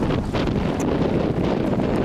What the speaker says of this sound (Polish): cholera z tym wiatrem i deszczem